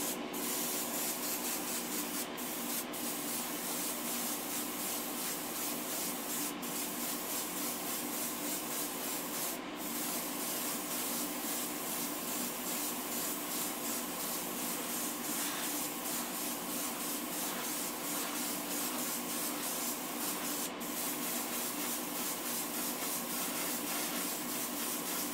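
Primer is spray-painted onto a 1:32 scale diecast car body, a close, steady hiss lasting the whole stretch with a few brief clicks breaking through.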